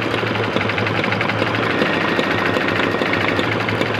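Embroidery machine stitching a design onto a tote bag, a steady loud rapid mechanical chatter with a fast even needle rhythm running throughout, no talk.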